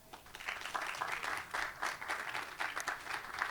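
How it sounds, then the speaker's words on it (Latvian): Audience clapping at a Latvian conference panel on artificial intelligence in employer-employee relations, a faint, steady patter of many hands that swells and ebbs in soft waves for a few seconds. "Aplausi!"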